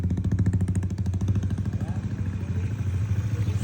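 A 200cc Yamaha NMAX scooter engine revved hard right after starting, a close, loud, pulsing mechanical drone with rapid firing beats that rises and holds, while someone speaks over it.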